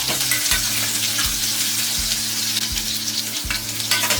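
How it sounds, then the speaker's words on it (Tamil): Bitter gourd pieces frying in a pan with a loud, continuous sizzle and bubbling, close up, while a low humming drone pulses underneath at regular intervals; no voices. "பாவக்காவை இந்த அளவுக்கு நல்லா வந்து ஃப்ரை பண்ணிட்டேன்"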